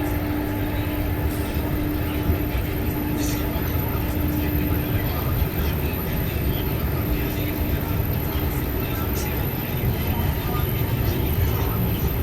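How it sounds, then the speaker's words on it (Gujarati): Gujarat Mail passenger train from Ahmedabad to Dadar rolling along, a continuous loud rumble of wheels on rails with a steady tonal whine and occasional faint squeals, heard from on board. "ગુજરાત મેલ અમદાવાદથી દાદર હાલતી આ ટ્રેન છે"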